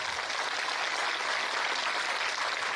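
Applause from an audience at a kirtan event in a village, a steady wash of hand clapping heard from a little distance, with no other voices.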